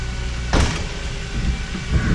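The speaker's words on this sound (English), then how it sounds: "Windows still work, car still starts, trunk latch still works." Power windows on a BMW E46 M3 hum steadily as they move, with a brief clunk partway through and a low motor drone throughout, close by with no talk.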